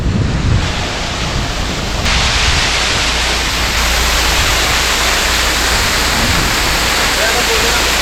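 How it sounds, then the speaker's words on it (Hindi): A glacier-fed waterfall near Sissu in Himachal Pradesh roars loudly and steadily as a dense, even rush of falling water, close and unbroken for the whole stretch. "ऊपर से आ रहा है कहीं से, ग्लेशियर के पास से ना, अमेजिंग वाला वाटरफॉल है।"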